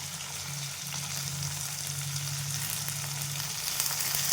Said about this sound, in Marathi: हे पण छान आहे ना तेलामध्ये मी फ्राय करून घेते टमाटर